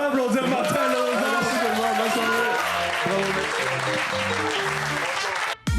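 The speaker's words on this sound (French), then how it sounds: "On peut applaudir Martin Lauzon." An audience applauds comedian Martin Lauzon at a comedy show, steady loud clapping with cheers while voices talk over it and music plays underneath, ending abruptly.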